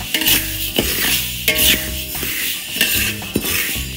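Glutinous rice being stirred and toasted in a pan, with a spatula scraping and clinking against the metal in repeated strokes over a close, continuous dry sizzle, and no one speaking.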